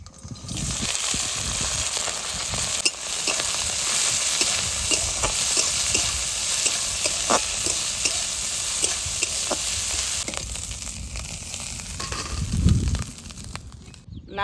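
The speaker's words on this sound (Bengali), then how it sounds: "এবার চিংড়ি মাছগুলো হালকা একটু ভেজে নেব" Prawns fry lightly in oil in a wok, giving a steady, close sizzle with frequent stirring scrapes and small pops throughout, heard alone with no talking.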